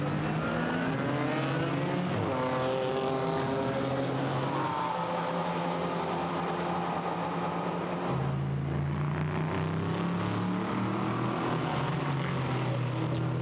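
GT4 race cars accelerating at Monza toward the Curva Grande, engines rising in pitch through the gears, loud and close, with a second car's engine note joining and climbing midway.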